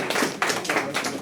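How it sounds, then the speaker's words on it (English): Classmates give a short round of light, quick clapping, faint and slightly distant, in a class session. "Claps to your classmates, please"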